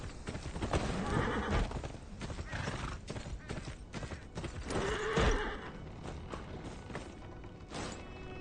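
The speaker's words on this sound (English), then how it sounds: "The horse riding in this game is actually not that bad." Hooves clip-clop at a steady canter while a horse neighs loudly midway, with a few thuds, during horse riding in the video game Game of Thrones: Kingsroad.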